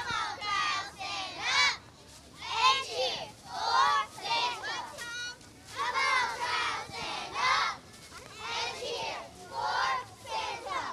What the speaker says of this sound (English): Let's listen to this cheer here.